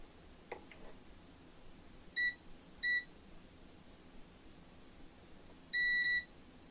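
A multimeter in continuity mode gives three short electronic beeps while probing a gaming laptop board for shorts to ground, two brief tones followed later by a longer one, alone over faint room hiss.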